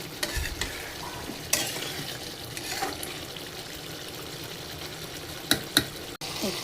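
Chicken being stirred and fried with spices, a steady low sizzle broken by scraping stirs and sharp clacks of a spoon against the pan, close and fairly quiet.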